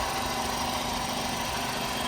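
A Renault Megane 3 hatchback with a 1.6 petrol engine idles steadily up close while cold, giving an even, smooth hum with no audible knocking or rattling.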